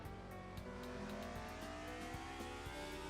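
A racing car engine in the video game Assetto Corsa drones and rises steadily in pitch on a track, a continuous synthetic-sounding whine with no voices over it.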